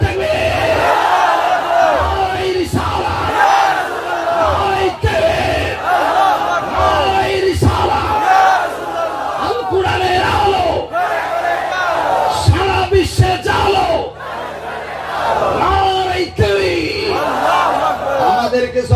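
A large crowd at an Islamic sermon gathering roars Allahu Akbar in loud, repeated group shouts, with the surges of massed voices filling the space.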